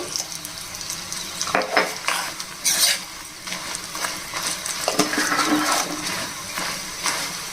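A tempering fries in a pan while being stirred, a soft sizzle broken by scraping strokes of a utensil and a few metallic knocks against the pan, close by, with no voice.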